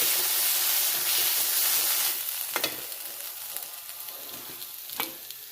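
Potato bhaji frying in a pan makes a loud, bright, dense sizzle that eases after a couple of seconds into a lighter hiss, broken by a few sharp scrapes and knocks of a spatula stirring.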